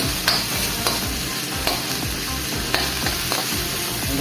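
Garlic, onion and tomatoes sizzle in an oiled pan for goat kaldereta, a steady close frying hiss with periodic clinks and scrapes of a spatula stirring.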